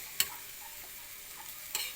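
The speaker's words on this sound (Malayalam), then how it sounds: "എന്നിട്ട് നല്ലോണം ഇളക്കി വേവിപ്പിച്ചിട്ട്" Papaya thoran cooking in a pan, a faint soft sizzle underneath two brief sharp scrapes of a spoon stirring, quiet and close.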